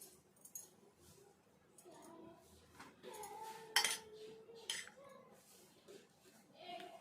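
Batter is mixed in a bowl with a spoon, giving faint scraping and clinking against the bowl in irregular strokes, quiet and close, with a brief sharper clink partway through.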